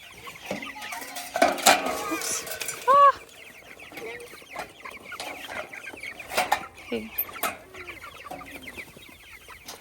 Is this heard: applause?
no